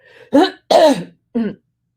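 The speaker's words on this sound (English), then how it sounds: "Let me clear my throat." Three distinct throat-clearing grunts, close and loud, spaced unevenly with a short pause before the last one.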